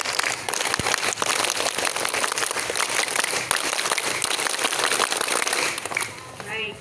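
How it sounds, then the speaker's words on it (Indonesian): A crowd of schoolchildren at an elementary school Scout Day ceremony claps the patterned Pramuka clap together, a dense rapid outdoor clapping that stops abruptly near the end. "2 kali tepuk Pramuka"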